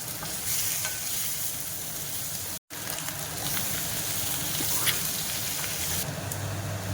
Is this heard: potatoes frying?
yes